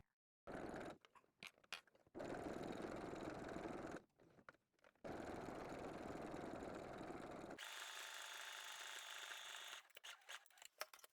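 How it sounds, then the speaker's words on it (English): A sewing machine stitches an X across fabric for a sewn jar opener in several close, steady runs separated by short pauses, with no talk. "We are also going to stitch an X on the fabric just to make sure that everything's secure."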